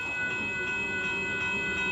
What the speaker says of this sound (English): We got a late southbound Amtrak Texas Eagle.